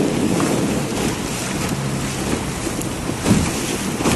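Rushing river rapids and churning waves slap around a boat as it drops over a small waterfall among rocks on a Mato Grosso river, a loud, continuous wash of water with wind buffeting the microphone.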